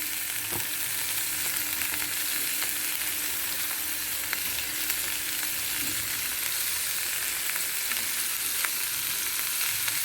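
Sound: frying coconut, roasted gram and green chillies in pan

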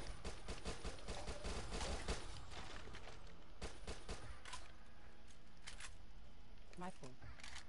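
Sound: SMG gunfire in Dead Nation video game

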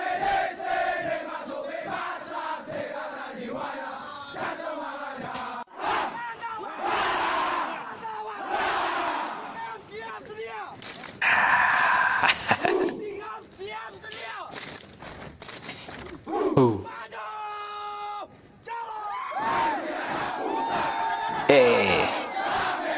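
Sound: Indonesian army soldiers chanting yel-yel

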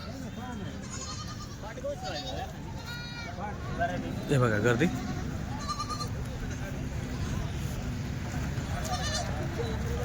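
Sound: goats bleating at a goat market

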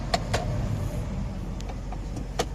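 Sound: Mazda Tribute car test drive after automatic transmission repair

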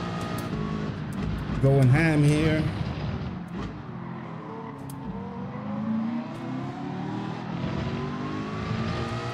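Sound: Ford GT race car engine in video game Gran Turismo 7

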